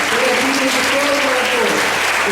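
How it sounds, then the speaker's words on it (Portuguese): Church congregation applauding loudly and steadily throughout, a dense wash of clapping with voices mixed in. "dá uma grande salva de palmas para o Senhor"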